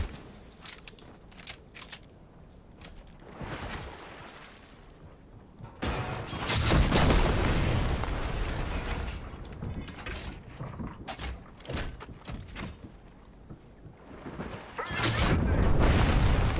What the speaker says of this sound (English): I just love using that rocket really stupidly